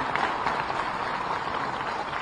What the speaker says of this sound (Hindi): उनके लिए एक बार जोरदार ताली के साथ में अभिनंदन करें